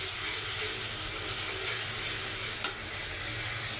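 Green peas fry in a pan of seasoned cooking fat, giving a steady, close sizzle that runs without a break, with one brief clack of utensil against pan near the end.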